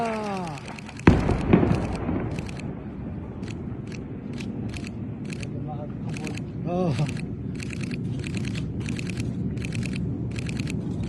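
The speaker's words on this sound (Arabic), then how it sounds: "انفجارات قوية الآن وقصف شديد شرق مدينة أو شمال شرق مدينة غزة" Heavy booming blasts of shelling in the distance east or northeast of Gaza City, one sharp close impact followed by a rolling rumble, with repeated thuds and crackling bursts over a low background din.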